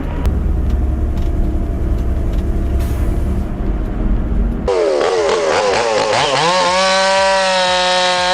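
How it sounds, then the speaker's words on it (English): A chainsaw cuts into a big oak tree, running loud and close. Its engine pitch wavers and then settles into a high, steady whine after a heavier, rumbling stretch. "Hear that saw work. Big oak is famously tough,"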